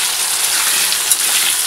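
Potatoes fry in oil in a pan for a soybean curry, giving a close, steady hissing sizzle with a faint pop, no voices.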